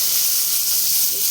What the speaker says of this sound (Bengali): রসুনগুলো হালকা ফ্রাই করে নেব